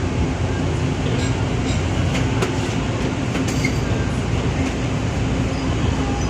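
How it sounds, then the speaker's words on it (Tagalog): A Toronto subway train at Spadina Station gives a steady, loud rumble of wheels and car noise that runs throughout, with faint high clicks and squeals riding over the constant roar. "Ganito yung kanilang train subway dito sa Toronto."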